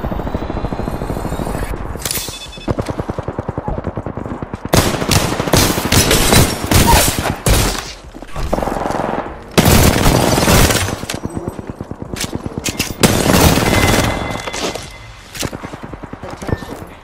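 Gunfire in the video game Apex Legends, loud rapid automatic bursts in repeated volleys separated by brief pauses, with heavy booming impacts close by and no voices.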